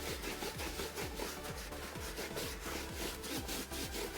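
A brush or pad scrubs back and forth across a car's surface after an orange citrus degreaser has been sprayed on and left to dwell, making a steady, rhythmic rasping close up with roughly two strokes per second.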